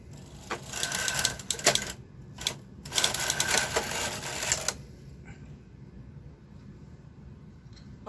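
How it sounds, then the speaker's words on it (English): A Silver Reed SK560 knitting machine carriage, fitted with a ribber, runs one row from left to right: a loud, close rattling clatter in bursts for about five seconds, then quiet room noise. "Knit one row from left to right."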